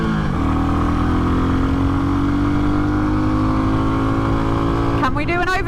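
A Royal Enfield Bullet 350 motorcycle pulls hard near the top of its power, the engine tone climbing slowly and steadily, loud and close with heavy wind rush, before a sudden shift in pitch near the end.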